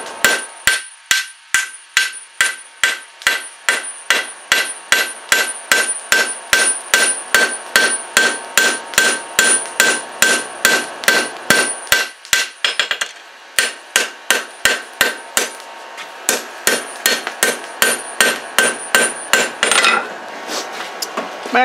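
Hand hammer strikes ring out on hot steel while forging a Damascus knife blade, a steady run of sharp, bright metallic blows with a short pause midway, then more strikes and a brief hiss near the end.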